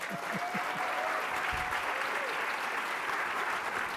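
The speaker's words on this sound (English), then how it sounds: "A round of applause for both of these guys." An audience applauds debaters at the close of a civil debate on school choice, a steady, dense wash of clapping that holds evenly for the whole stretch, with a few faint voices underneath.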